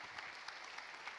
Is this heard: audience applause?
yes